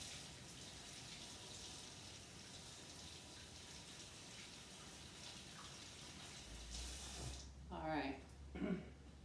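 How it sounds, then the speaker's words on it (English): Water runs from a kitchen tap as hands are washed, a steady faint rush through most of the stretch, then a few louder splashes and gushes near the end. "Let me wash my hands real quick."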